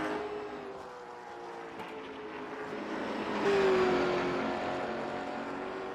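Race cars accelerating out of a corner at Thompson Speedway on a night with rear ends struggling for grip, a continuous engine drone that swells and fades as the cars pass at a moderate distance.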